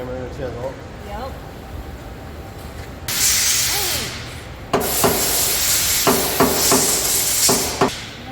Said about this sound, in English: With a hammer and a chisel.